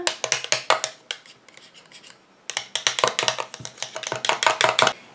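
Homemade foot cream being stirred after palmarosa essential oil is added, rapid scraping clicks of a utensil against a container in quick bursts, a brief lull, then another fast run of close, crisp strokes.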